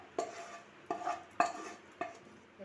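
Thick jaggery and ginger mixture scraped and tipped from a pan onto a ghee-greased plate, four sharp utensil knocks and scrapes spaced about half a second apart, close and fairly quiet with no voices.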